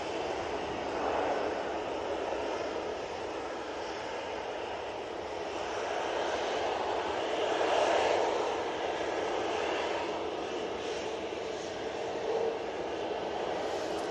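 Malta Air airliner arriving at Manchester Airport, a distant broad jet roar that swells and fades over several seconds, fairly faint.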